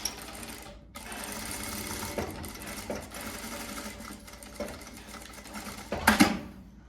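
A sewing machine stitches the shoulder seam of a blouse, running in a steady close whir broken by a few short pauses, with a louder, sharper burst of stitching near the end.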